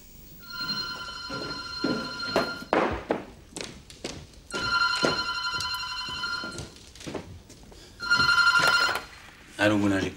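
An old-style telephone rings in repeated bursts of bright ringing, with thuds, taps and quiet French dialogue between the rings.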